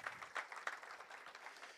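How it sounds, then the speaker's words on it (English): A church congregation claps during a service, a faint, scattered round of applause with a few sharper bursts and no clear talk over it. "Come on, that's something good to clap about here this morning."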